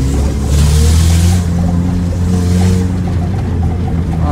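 Chevrolet Celta with a blown-out exhaust, its engine giving a loud, raspy, droning roar close by, with rising surges of revving over a steady low rumble.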